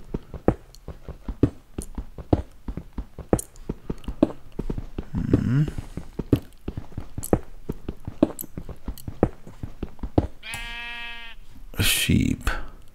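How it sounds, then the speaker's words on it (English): Sheep bleating in the video game Minecraft, a short bleat near the end, with steady blocky game footsteps throughout and a person talking earlier in the clip. "Sheep."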